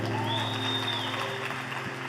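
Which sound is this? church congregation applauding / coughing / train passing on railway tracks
church congregation applauding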